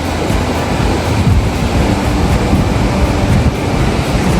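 Lepreau Falls in New Brunswick, a steady, loud roar of rushing water with a broad hiss and some wind buffeting, constant throughout with no voices.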